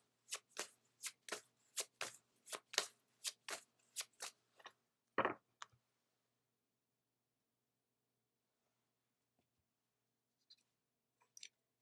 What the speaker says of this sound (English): Next, we'll pull a card from the Spirit Animal deck.